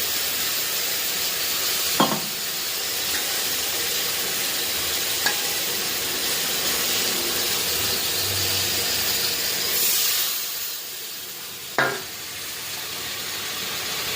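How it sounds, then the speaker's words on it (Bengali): Spice paste of ginger, green chilli, cumin, coriander, chilli, salt and turmeric sizzling steadily in oil as it is stir-fried, a loud continuous hiss with a few scrapes of the spoon against the pan. "এবার মশলাটা একটু কষি।"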